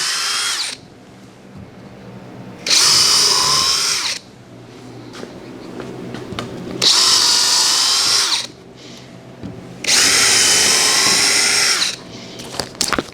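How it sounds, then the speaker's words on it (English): Power drill driving screws into an upside-down rolling cart for a Kubota BH92 backhoe, with three loud, steady whirring bursts of a few seconds each, separated by pauses filled with quieter handling noise. "we'll see if we can drive these screws"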